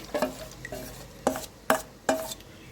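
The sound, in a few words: spice paste being added and stirred in a pan for dahi paneer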